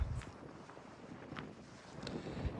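Steady outdoor summer wind in Canada buffeting the microphone, a low rumble throughout with a few brief gusty swells.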